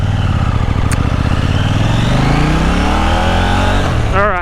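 A 2023 KTM Duke 890 motorcycle engine runs loud and close, its pitch rising steadily as it revs, with a brief higher whine near the end.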